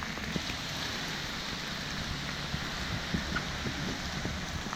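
Rain falling outdoors on a wet day, a steady broad hiss dotted with scattered light drop taps, continuous and even, with no voices.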